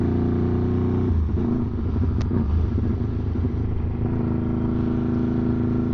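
Honda Grom motorcycle swapped with a Ducati 1199cc engine, idling and revving loudly up close, its deep throbbing rumble swelling and easing over several seconds with no talk.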